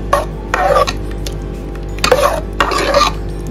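A spoon scrapes and stirs jackfruit seed curry made with roasted ground coconut in a pan, in two short bursts of wet scraping separated by a brief pause.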